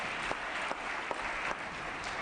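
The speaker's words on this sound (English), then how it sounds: "Please recognize our leadership with a round of applause." Applause from members on a legislative assembly floor during a session, a steady broadband wash of clapping heard throughout the short stretch at moderate distance, with no talk over it.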